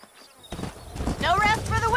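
Horses galloping in the game Red Dead Redemption, hoofbeats rising from near silence into a close, busy rhythm, with a voice speaking over the last part.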